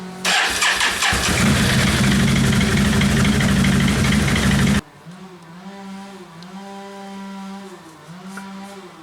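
A 2010 Can-Am Outlander 800R ATV starts after an oil change, roaring loudly at first, then cutting abruptly down to a quieter idle with a wavering pitch.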